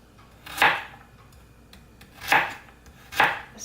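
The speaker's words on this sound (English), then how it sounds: "Then I'm gonna chop it really tiny." A knife chops an ingredient for picadillo on a cutting board, three separate firm strokes spaced apart, close and fairly crisp against a quiet room.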